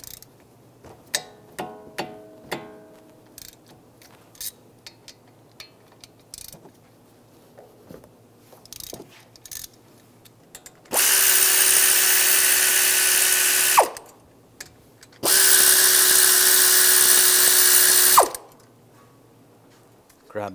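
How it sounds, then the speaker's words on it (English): Brake caliper bolts on a 2013-2016 Dodge Dart being removed with a 14 mm socket, first faint ratchet clicks and taps, then two loud steady whirring runs of an impact tool of about three seconds each. "We're going to remove these two caliper bolts. Use a 14 millimeter socket."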